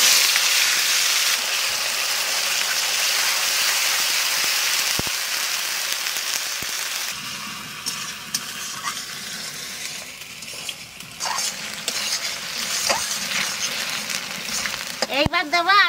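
Onion paste fries in oil with bay leaf, clove, cinnamon and cardamom, giving a strong hissing sizzle that fades halfway through into quieter bubbling, broken by utensil clinks and scrapes.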